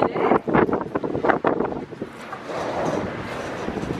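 Gusty wind sweeps across a long house veranda, buffeting the microphone with rumbling, rushing noise that comes in strong bursts at first and then settles into a steadier roar.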